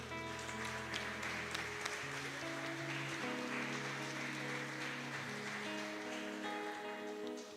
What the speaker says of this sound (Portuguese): Uma salva de palmas para a Evelyn.